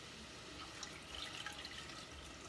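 Reduced mushroom juice and homemade shrimp stock pour into a pot already holding light coconut milk for a Thai fish soup, a faint, steady liquid trickle with a few small drips.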